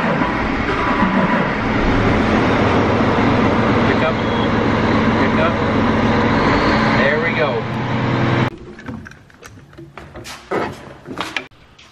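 A farm tractor engine roars loud and steady for about eight seconds, then cuts off abruptly, leaving quieter clunks and scattered noises with a voice heard nearby.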